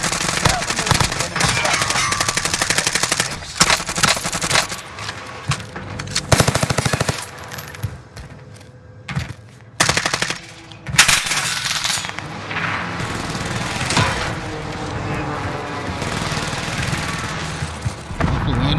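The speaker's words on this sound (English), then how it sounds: "Wait, shots over here." Rapid automatic gunfire in the Warzone battle royale game, with dense bursts of machine-gun fire and scattered shots that come and go in loud, overlapping volleys across the whole stretch.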